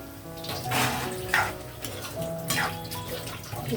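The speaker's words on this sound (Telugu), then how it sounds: "ఇందుగా వాటర్ యాడ్ చేస్తున్నాను నేను" Water is poured from a vessel into a pan of spring onion, chickpea and egg curry, a steady splashing gush with a few sharper pours over about four seconds, no talk.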